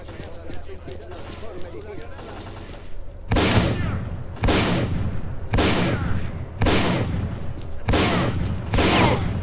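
Shotgun blasts in the shooter game S.T.A.L.K.E.R. Clear Sky, six loud booming shots fired at a steady rhythm about a second apart, each with a sharp crack and rumbling tail, following quieter game ambience.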